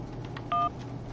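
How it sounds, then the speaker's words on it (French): A single touch-tone telephone keypress beep, dialing a number in the video game Syberia, sounds once, clear and brief, against a low, steady background hum. "Je crois qu'on peut l'appeler dans le téléphone."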